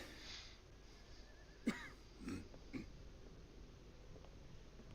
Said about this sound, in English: Well, cough, cough.